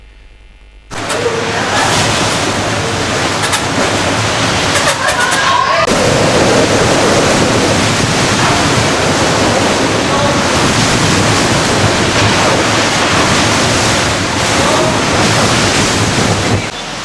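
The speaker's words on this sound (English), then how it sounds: "See water is flooding out of the hotel rooms." Loud, continuous rush of floodwater from Typhoon Xangsane in Vietnam, churning with heavy broadband roar and wind-like noise, steady throughout after an abrupt start.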